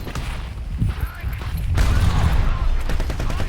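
Dense, continuous gunfire from a War Thunder Mobile tank battle, with rapid overlapping shots forming a loud, sustained barrage that thickens partway through.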